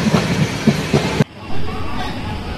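A low, steady rumble of the Pothigai Express train rolling on rails near Chengalpattu, with voices over it in the first half before it drops to a quieter hum.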